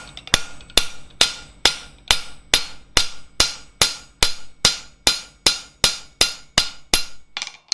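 A hammer strikes a rivet on a forged steel cross about eighteen times in a steady, even rhythm, each blow a sharp loud metallic ring that quickly decays.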